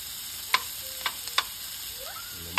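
Pansit noodles being stir-fried with garlic and meat, a soft sizzle under a few sharp scraping clanks of a spatula against the pan, with a faint voice-like tone in the background.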